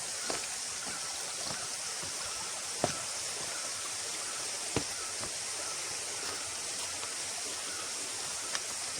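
A small stream at Maliboda, Sri Lanka, flows with a soft, even rush of water, faint and steady, with a few scattered light clicks.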